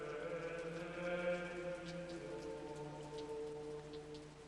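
Rain and dank sea mist at a Norman abbey on the coast of northern France. Steady rainfall hisses evenly throughout, and a sustained tonal background sits underneath, with no talk.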